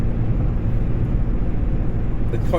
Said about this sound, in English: This car's pretty quiet.